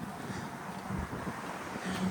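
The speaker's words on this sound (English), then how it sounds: "Sorry about the wind again." Wind buffets an outdoor microphone in a steady low rumble, faint and continuous, with a little indistinct talk mixed in.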